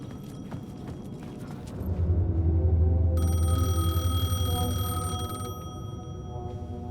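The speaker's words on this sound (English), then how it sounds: "The payphone was ringing." A payphone rings in the video game Alan Wake II, a steady electronic bell tone sounding for a couple of seconds over a low, dark ambient rumble and scattered faint clicks.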